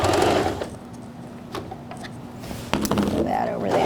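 A sewing machine back-stitches a 5/8 inch seam on pajama bottoms, a brief close whir that pauses and restarts with light mechanical clicks.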